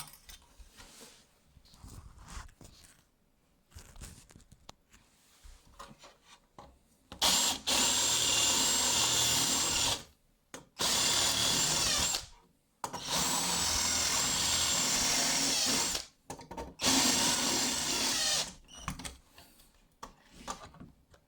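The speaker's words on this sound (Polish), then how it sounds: "Robię to wiertłem. Mam, mam wkrętarkę, można użyć wiertarki." A cordless drill whines loudly in several sustained bursts of a few seconds each, drilling holes in a BMW 5 Series E60 xenon headlamp, separated by short pauses, with quieter handling noise before the first burst.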